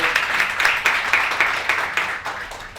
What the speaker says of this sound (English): Vaughn, give him a round of applause